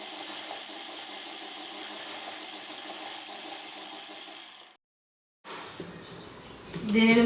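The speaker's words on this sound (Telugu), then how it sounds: "ఇలా ప్రిపేర్ చేసి ఉంచుకున్న 2 ముక్కల్ని ఇలా ఒక చివరన కలిపి జాయిన్ చేసి కుట్టు వేసుకోవాలి" Sewing machine running steadily while stitching two petticoat panels together at one end, a continuous mechanical whir that stops briefly and then resumes.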